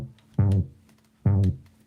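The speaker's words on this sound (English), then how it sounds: "by taking one note in the bass," Synth bass note in FL Studio bent up and down in pitch, two short wiggling swoops about a second apart, clear and close with no talk.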